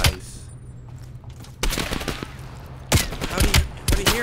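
Gunshots in Call of Duty Black Ops Cold War on a training course: a sharp shot opens, then loud clusters of rapid gunfire arrive in two separate bursts, with quieter gaps between them.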